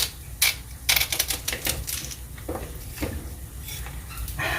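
A knife slicing kernels off a corn cob on a kitchen cutting board, giving crisp scraping cuts in several bursts over a low steady background hum, close and moderately loud.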